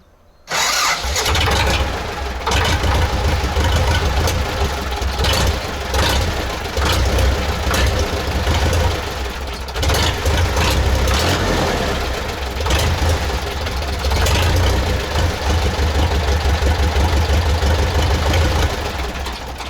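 A D-240 diesel engine fitted in a ZIL crane truck cranks and fires after a brief pause, then settles into a loud, close, rough idle with uneven knocking pulses that continue steadily.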